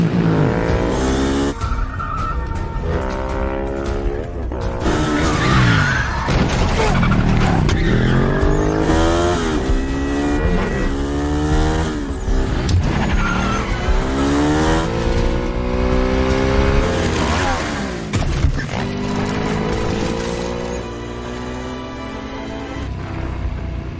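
A motorcycle engine roars and revs hard while tires screech, loud and continuous, like speeding off in a chase.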